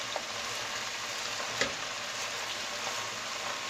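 Steady sizzling and frying from spinach sautéing in a pot, with a soft clatter of stirring partway through and no voices.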